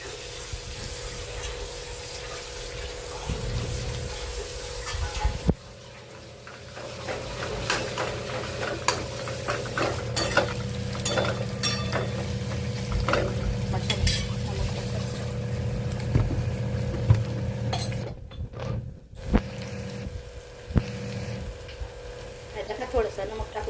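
Chopped onions fry with a steady sizzle in a pan as they are stirred for a vegetable bhaji, with scraping stirring strokes and a few pauses.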